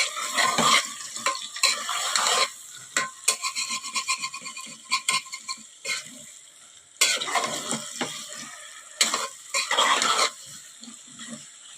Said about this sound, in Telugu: ఇందాక మనం కలిపి పెట్టుకున్న చికెన్ ఇందులో యాడ్ చేసేసుకుందాం. ఒకసారి కలిపేసుకుందాం.